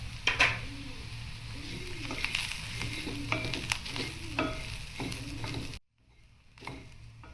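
Garlic paste and coriander seeds fry and sizzle in a pan for a mutton curry masala, with steady crackling and repeated stirring scrapes close by, before a sudden drop to near silence near the end.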